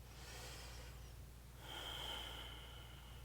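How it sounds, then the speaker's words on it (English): Slow breathing in a yoga flow, with a soft drawn breath followed by a slightly louder, breathy exhale near the middle, close and quiet over a low steady room hum. "Last breath here."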